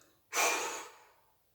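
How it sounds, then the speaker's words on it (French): A single slow exhale during a relaxation breathing exercise, a soft breathy rush that swells quickly and then fades gradually over about a second, close and quiet, with no talking. "Et je souffle, je relâche."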